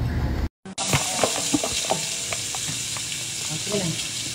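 Breakfast frying in a pan, a steady close sizzle with scattered stirring clicks and scrapes after a brief dropout near the start, alone without talk.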